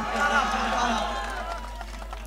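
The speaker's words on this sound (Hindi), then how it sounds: "एक बार जोरदार तालियों के साथ में सम्मानित डोटासरा जी का अभिनंदन।" Crowd at an outdoor political rally in Madhorajpura claps and cheers in steady sustained applause, dense and fairly loud, tailing off slightly toward the end.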